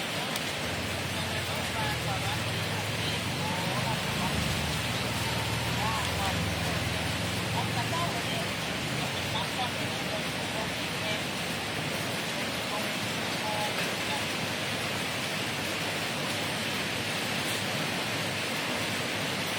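Steady early-morning rain falling around a house, a dense continuous hiss that stays even throughout, with a low hum and faint voices beneath it.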